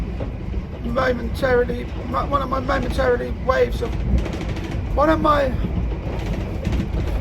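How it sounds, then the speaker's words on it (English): Steady rumble of a passenger train carrying someone onboard, heading toward Eastleigh, continuous throughout with people talking over it. "this train that I'm on goes up to Eastleigh"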